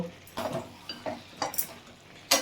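Methi chicken with fenugreek leaves and chopped spring onion being stirred in a pan, a few short scraping clinks of a spoon against metal spaced over a couple of seconds with a faint sizzle beneath.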